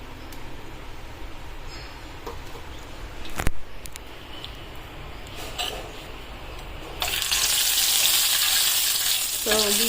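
Oil and ghee heating on a Telugu home-kitchen pan for mandi biryani give a steady, close frying sizzle, which swells into a louder, brighter hiss for the last few seconds, with a sharp knock partway through and no talking.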